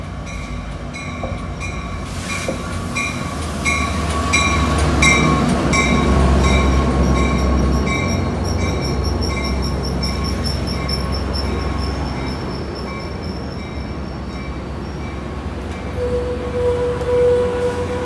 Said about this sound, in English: Amtrak train number 716, San Joaquin.